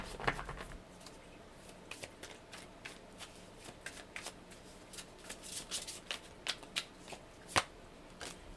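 Anna K Tarot cards are shuffled up close in a quiet room, giving a series of soft, quick riffling and slapping bursts at an irregular rhythm, with a louder snap near the end.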